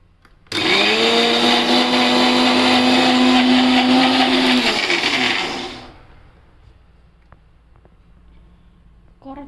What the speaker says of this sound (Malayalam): ഇനി നമുക്കിത് അരച്ചെടുക്കാം.